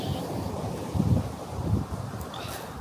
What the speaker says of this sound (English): I really love the sound of the waves.